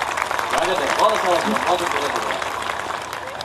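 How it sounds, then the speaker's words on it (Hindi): Loud audience applause at a Hindi kavi sammelan poetry recital, a dense, even roar of many hands clapping that holds steady throughout, with a voice faintly audible beneath. "एक बार जोरदार तालियां बजाकर बताइए कि आप मुझे सुन रहे हैं।"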